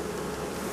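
Honey bees buzzing at an open hive during a honey harvest, a steady dense drone from many insects, faint and close, with no talking.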